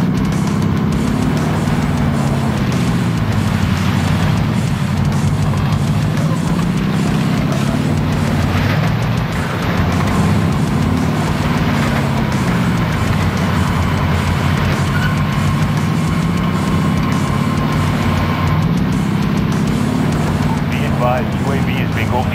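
Car engine driving in the Warzone video game: a loud, steady engine drone with gently rising and falling pitch, continuous throughout, with voices heard over it.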